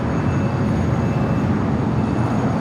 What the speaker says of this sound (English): Volaris A320neo making that left-hand turn onto Bravo now, heading down to 25 at right